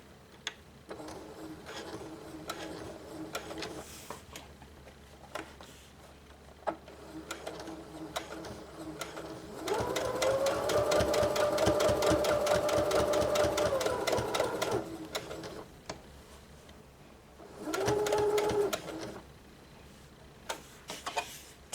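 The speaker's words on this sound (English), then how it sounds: "we're going to sew this all the way around. Again, I'm going to start with a few back stitches." Close, loud sewing machine runs stitching fabric for a cloth pad, with a long steady whirring burst of stitches in the middle and a shorter burst later, after quieter handling, small clicks and a few back stitches.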